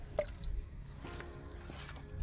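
Quiet wet squishing and dripping as lotus root starch water is washed and strained, with a few soft splashes and drips over a low background, no talk.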